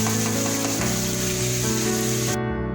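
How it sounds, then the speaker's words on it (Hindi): Onions frying in cooking oil in a pan until light brown, a steady close sizzle running throughout, with background music playing over it and cutting off near the end. "डालेंगे प्याज और कुकिंग ऑयल और करेंगे प्याज को फ्राई लाइट ब्राउन"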